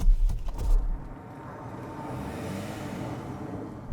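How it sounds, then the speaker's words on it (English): A 2020 Toyota Camry drives on the road, giving a steady low tyre and engine rumble from inside the cabin, fairly quiet and even, with a few thumps at the start. "The Camry is a pretty good car for long distance journeys because on the motorway it's reasonably quiet."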